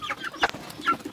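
White Kelso cross chickens on a farm give a couple of short, close clucks in quick succession, brief and clear with no talking over them.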